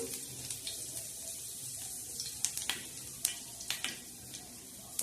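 Curry leaves crackle and spit as they hit hot oil for a tempering, giving a steady close sizzle with sharp pops scattered through it and a louder burst at the end.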